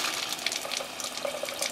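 Sparkling water hisses and fizzes as it pours from a Grohe Blue kitchen tap fed by a reverse osmosis filter system, a steady close stream with no talking.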